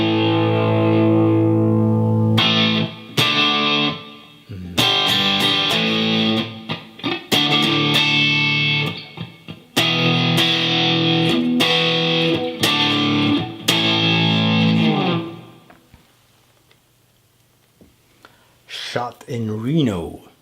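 Crunchy distorted electric guitar played through a Headrush pedal board, loud chords and riffs in bursts with short pauses, fading to near silence before a faint final phrase.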